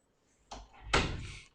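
A door shuts with a soft bump followed by a louder thudding close and a brief rattle, fairly near and heard on its own.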